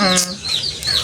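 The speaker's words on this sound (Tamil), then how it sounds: "இது வந்து ஊர்கோழி குஞ்சு" Country chicken chicks chirp close by in a few quick, high, thin peeps, with a short low voice-like tone at the start.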